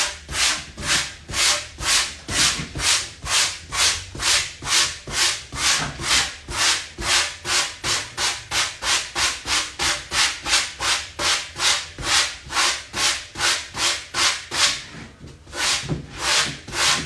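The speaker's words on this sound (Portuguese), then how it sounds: "a ideia é essa lixa tirar os ruffles" Sandpaper rubs steadily across a kiteboard shape being pre-shaped, a close, loud back-and-forth rasp repeating in an even, quick rhythm of dozens of strokes with a brief pause near the end.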